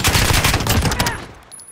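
Rapid semi-automatic SMG fire from Call of Duty: Modern Warfare, a dense run of loud close shots for over a second before tailing off into a fading echo.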